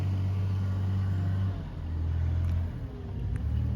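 Dumper truck engine idling and revving on a self-build site being graded, a steady low rumble that dips in the middle and swells again, close and alone.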